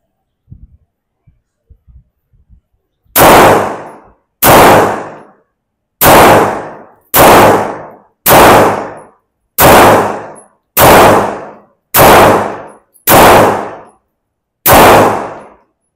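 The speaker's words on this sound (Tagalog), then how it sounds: "nakatapos na tayo ng ating unboxing at test firing dito sa ating Jericho 941 FS compact pistol from IWI" An IWI Jericho 941 FS compact pistol test-fired outdoors: ten loud, sharp gunshots in a steady, evenly spaced series, each with a short ringing tail, after a few faint clicks of handling.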